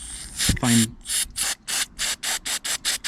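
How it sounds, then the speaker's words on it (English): Short bursts of aerosol carburettor cleaner hiss onto a small Suzuki outboard carburettor in a quick series of about a dozen puffs, close up, with a brief mechanical click near the start. "put the carb cleaner on the back and spray"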